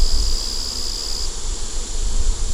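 Honeybees buzz steadily around an open, growing hive as foragers return with pollen, a dense, close hum with a sharp high whine from one nearby bee in the first second, and no voices.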